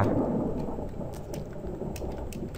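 Thunder rumbles in a video game, a deep continuous roll with rain-like hiss and a few sharp crackles, steady and fairly loud throughout with no talking.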